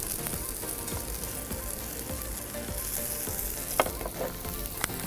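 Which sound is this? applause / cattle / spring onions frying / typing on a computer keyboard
spring onions frying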